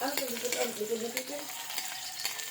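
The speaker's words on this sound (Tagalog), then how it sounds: "And hindi na natin kailangan ipa ipa golden brown. Yung bawang." Garlic fries in a pan with a close, crackling sizzle and a few light stirring scrapes, while a soft voice murmurs briefly partway through.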